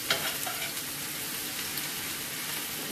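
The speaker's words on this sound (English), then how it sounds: "Our cabbage is almost done, so we're gonna lower this fire." Cabbage frying in a pan over a flame, sizzling as a steady, crackling hiss with a few sharper pops and stirring noises near the start, close and continuous.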